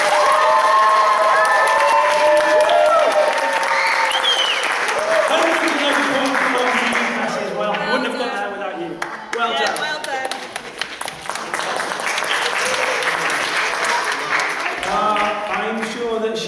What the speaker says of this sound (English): Can we just have the biggest round of applause?